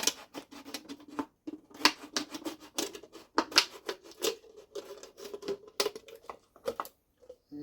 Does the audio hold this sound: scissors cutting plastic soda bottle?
yes